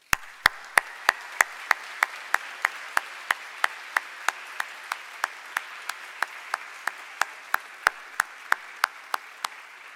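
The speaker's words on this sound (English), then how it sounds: "So I'd ask you to join me in a round of applause for the families who supported our graduates." Audience applause at a 2013 graduate convocation honors the graduates' families. A steady bed of crowd clapping carries a sharp, evenly spaced clap close to the microphone, repeating about three times per second for ten seconds.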